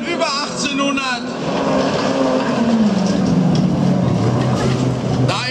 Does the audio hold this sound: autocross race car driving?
yes